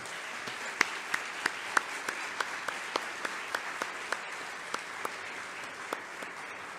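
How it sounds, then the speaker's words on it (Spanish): Applause welcoming Dr. Rosa María Torres Hernández, a fairly quiet, sparse round of clapping with distinct individual claps standing out at a steady rhythm, heard from some distance. "Recibamos con un aplauso a la doctora Rosa María Torres Hernández."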